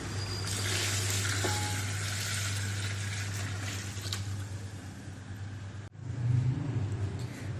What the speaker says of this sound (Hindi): बस हम अब इसमें यखनी ऐड करेंगे जो स्ट्रेन कर ली थी, और साथ ही चावल ऐड कर देंगे।